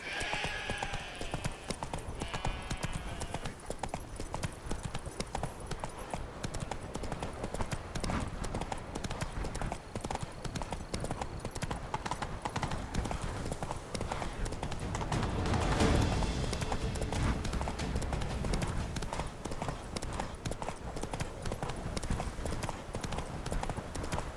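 Roach, the horse in The Witcher 3 video game, gallops with steady rhythmic clip-clopping hoofbeats running throughout, moderately loud and close, with a brief swell of wind or movement noise midway.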